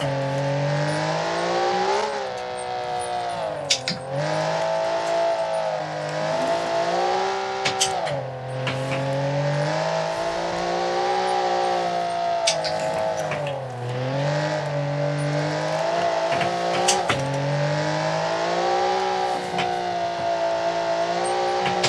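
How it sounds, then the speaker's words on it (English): Car engine of a Crown Model 18 in BeamNG pulling hard on throttle, rising in pitch through the gears with repeated climbs and dips at each shift, loud and steady throughout. "See how early we can go on the throttle."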